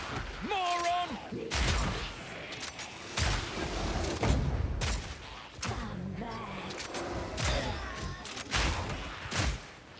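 Grenades in The Mercenary game go off in a series of punchy explosive bursts spaced a second or two apart, mixed with game effects and someone talking between them.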